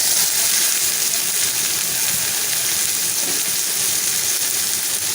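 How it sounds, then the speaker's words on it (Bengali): Chopped onion frying in oil left over from hilsa fish makes a continuous, even sizzle, close and fairly loud, with no voices. "পেঁয়াজটা আমি একটু ভেজে নিব"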